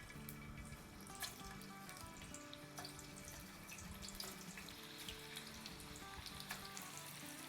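Potato tater tots frying in hot oil in a home kitchen, a steady dense sizzle and crackle with scattered pops, close and continuous without talk.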